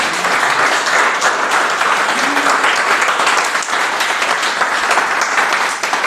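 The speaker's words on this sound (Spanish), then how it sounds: "¿Cuántos le pueden dar un aplauso al Señor?" Church congregation gives loud, sustained applause, a thick continuous wash of many hands clapping with a few faint voices woven through.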